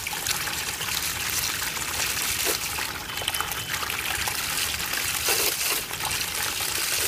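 A jet of water from a 12V 54W brushless DC pump, model DC50F-12110A, splashes steadily against a wall, a loud continuous spraying rush with brief dips and no talking.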